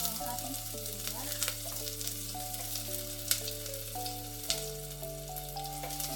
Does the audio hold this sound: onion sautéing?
yes